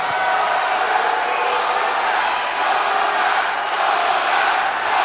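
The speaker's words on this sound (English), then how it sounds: "This crowd here in Kansas welcoming Mox back the only way they know how." A wrestling arena crowd in Kansas roars for a returning wrestler in a WWE 2K game, a loud continuous cheering wash with no break.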